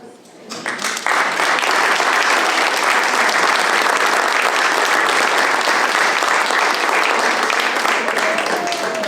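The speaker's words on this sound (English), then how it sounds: "Let's give another round of applause to our CIF champions" Sustained audience applause for high school CIF champions at a San Dimas city council meeting, building quickly after a brief quiet start into steady, dense clapping that fills the room and carries on without a break.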